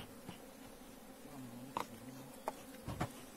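Bees buzzing faintly around a beehive where invading bees have gotten in, a low drone with a few brief, louder buzzes as single insects pass close by.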